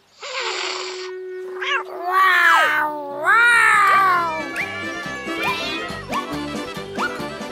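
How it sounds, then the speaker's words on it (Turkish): A cartoon cat meows in a few rising, drawn-out cries in quick succession, close and fairly loud, over soft background music. "İşte yardım bekleyen bir kedi."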